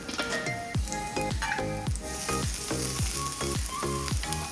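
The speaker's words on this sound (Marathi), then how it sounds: "आपल्याला लसणाला गोल्डन ब्राऊन करायचं आहे" Garlic, cumin and small green chili frying in oil in an iron kadhai, a loud, close, continuous sizzle and crackle with rapid popping spatters throughout and no voices.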